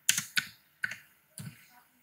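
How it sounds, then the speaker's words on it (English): A few quick, soft keystrokes tap on a computer keyboard, four separate clicks close by in a quiet room. "Go to the search bar now and type in what? Pixellab. So type in Pixellab."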